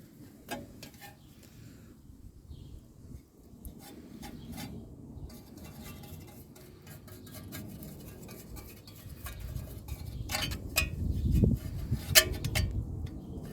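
Chassis grease is rubbed onto the brake backing plate and hub of a 2010 Toyota Corolla 1.8 during a rear disc brake conversion. The result is soft, close-up scraping and rubbing strokes with a few light clicks, growing louder toward the end.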